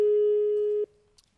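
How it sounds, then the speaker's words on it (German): A telephone ringing tone on a landline call to a village inn: one loud, steady, pure tone lasting under a second, then cutting off sharply into near silence. "Da ist das Freizeichen."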